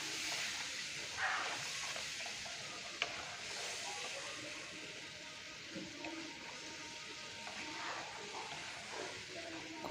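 Onion, garlic, ginger and tomato masala paste for Bengali chicken kosha sizzles softly in a pan as it is stirred, a faint, steady hiss with occasional light knocks and no talking.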